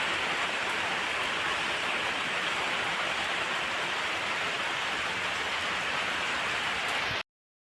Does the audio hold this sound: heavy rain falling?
yes